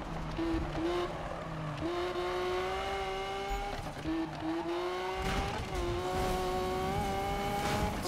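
Lamborghini Aventador in Need for Speed 2015, its engine revving hard through gear shifts at over 200 mph and then braking, a loud, close, whining engine note with pitch climbs and drops.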